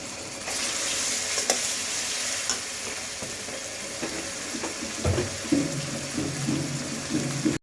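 Coriander and cumin paste frying in a pan with ginger paste, a steady broadband sizzle with occasional scraping clinks and a few louder stirring knocks toward the end.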